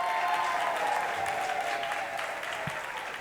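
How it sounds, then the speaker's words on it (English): A conference crowd at the REVOLT Summit in Atlanta claps, a sustained wash of applause from many hands that tapers slightly toward the end, fairly loud and without speech. "Give yourselves a round of applause."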